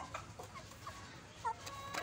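Bantam chickens eating in a cage on a small farm, giving soft, faint clucks and scattered low calls with quiet pauses between them.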